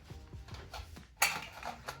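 Deep metal plates, a set of five, clatter and clink as they are unpacked indoors, with soft handling knocks followed by one sharp metallic clang, no talking over it.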